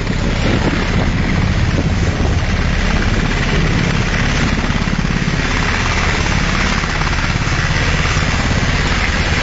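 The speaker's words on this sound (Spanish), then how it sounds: "Ahí está, miren, el helicóptero todavía ahí," A Colombian army helicopter waits with rotors running in the páramo highlands, giving a loud, constant, close rotor and engine roar mixed with wind buffeting, and no speech.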